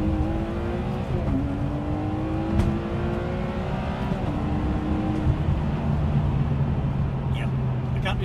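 A Ferrari 599 in sport mode with its exhaust flaps open drones loudly and steadily from inside the car, the engine note climbing through gears with brief shift dips.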